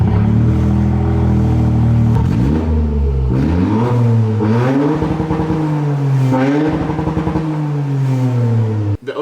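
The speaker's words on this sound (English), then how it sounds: "So the car doesn't have an exhaust on it right now. Let's hear what it sounds like." Toyota GR Corolla engine running with no exhaust fitted, loud and raw, idling then revving up and down in several rising and falling sweeps with a rough, unmuffled rasp throughout, heard alone.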